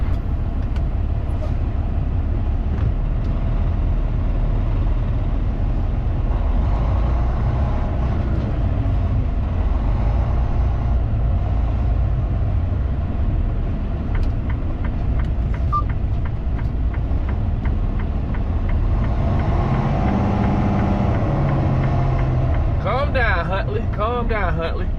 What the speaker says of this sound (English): You've been idling all night. Yeah, this truck shut off on me last night,